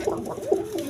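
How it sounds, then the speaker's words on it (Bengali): Domestic pigeons at a pigeon dealer coo in two low, rolling calls, close and steady, with no talk over them. "দেখেন এই যে দেখেন, একদম ছটপটা কবুতর"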